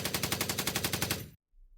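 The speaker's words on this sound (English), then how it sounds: "The sound of gunfire is everywhere" Rapid machine-gun fire in a war documentary about Jordan's Black September civil war, a loud sustained burst of about fifteen evenly spaced shots that cuts off abruptly, followed by a brief silence and a low rumble.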